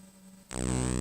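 A soft hum gives way abruptly to a loud, buzzy square-wave tone from a Behringer Neutron synthesizer with a harsh, gritty edge that holds steady to the end.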